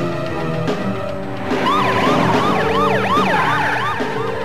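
An ambulance siren wails in a movie trailer, its rising and falling tones looping steadily and loud over a dense music and effects bed, starting about a third of the way in.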